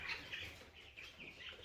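Broiler chickens in a poultry farm, faint chirps and soft clucks from the flock in short overlapping bursts, with no talk.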